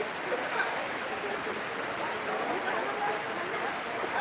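Steady rain hissing as a broad, even wash of noise at moderate level, continuous with no breaks, close and enveloping.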